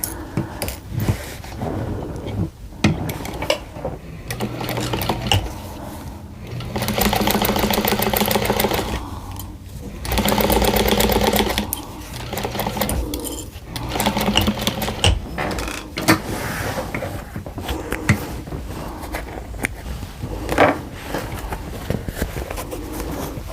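A sewing machine stitches the seams of a hexagon table runner in steady runs. The whirring bursts start and stop, and each lasts several seconds, close and loud, with no talking.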